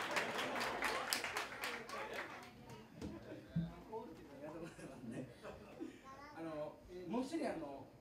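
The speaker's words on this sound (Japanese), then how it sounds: "aplaudimos" Applause and scattered clapping from a live concert audience, loud and dense for the first few seconds, then giving way to talking and chuckling from the crowd and stage.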